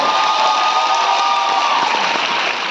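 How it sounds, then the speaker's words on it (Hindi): Steady, dense applause from an audience at a public discussion event in Jammu fills the whole stretch at an even loudness, with a faint undertone of crowd murmur and no clear break in the clapping. "भैया इस पे ताली बहुत जोरदार चाहिए"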